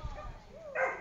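Doberman puppies about 3.5 months old give a short whimpering yip and a quick bark at close range within a single second, with a voice speaking around them.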